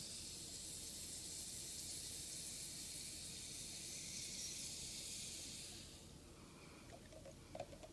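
AeroPress coffee maker plunger pressed down through the brew: a soft, steady airy hiss for about six seconds that then fades out, leaving faint small clicks.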